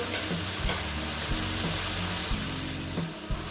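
Ash gourd (chal kumro) with turmeric and salt sizzling steadily in a hot pan, a dense continuous fry with repeated stirring scrapes and soft knocks throughout, close and loud.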